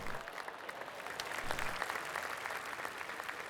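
Steady applause from a golf gallery in PGA TOUR 2K25 fills the moment, a soft, even, mid-distance patter of many hands clapping, with no talk over it.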